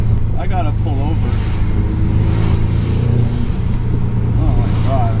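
An Audi S3 fitted with a CTS turbo intake and turbo inlet revs and accelerates from inside the cabin, a steady loud engine drone with rising pulls, while excited voices talk over it.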